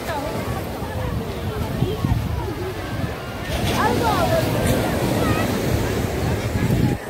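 Sea waves breaking on a crowded Sunday beach on the Arabian Sea shore in Kerala, a continuous roaring wash of surf and wind that swells louder midway, with people talking underneath.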